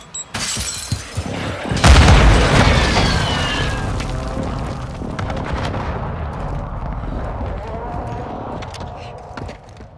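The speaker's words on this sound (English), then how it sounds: "Hostile airstrike near your location." In Call of Duty: Modern Warfare 2 on the Ta'rq map, an airstrike lands as a sudden loud explosion with shattering debris. Scattered gunfire crackles around it, and the rumble slowly fades under continued battle noise.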